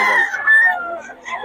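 A Golden Boy gamefowl rooster crows close by at a cockfighting bird market in Bocaue, one short loud call that wavers and trails off, with faint voices around it.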